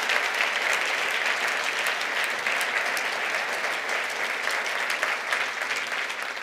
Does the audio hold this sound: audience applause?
yes